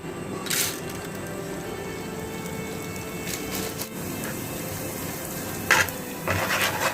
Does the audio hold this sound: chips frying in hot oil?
yes